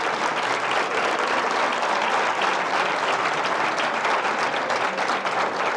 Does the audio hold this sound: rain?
no